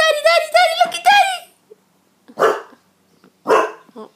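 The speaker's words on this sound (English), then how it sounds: "What are you barking at?" A dog barks twice at moderate distance, two separate bursts following a stretch of high, excited talk from a person nearby.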